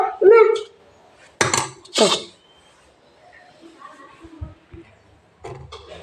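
Dishes and cutlery clink and clatter in a home kitchen while a lunch box is packed, with a few sharp close bursts of metal and crockery. A voice speaks at the start and murmurs lightly later.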